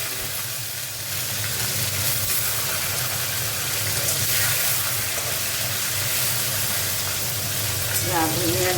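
Radhuni and fenugreek seeds with bitter gourd sizzle and crackle steadily in hot oil, a loud, dense frying hiss that continues throughout.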